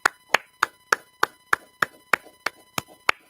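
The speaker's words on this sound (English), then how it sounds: "Clap it up, clap it up, clap it up." Sharp, evenly spaced claps at a steady beat during a class in Houston, about a dozen crisp hits in a row with no talk over them.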